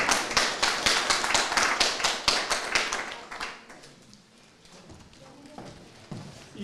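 Audience at a Polish school award ceremony claps in a steady, fairly loud burst of applause that fades out after about three seconds, leaving quiet room noise and a few scattered claps.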